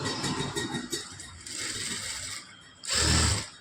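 A sewing machine stitches a lined blouse in short mechanical bursts, a clattering, ratcheting run of needle strokes followed by a brief pause and a louder final burst.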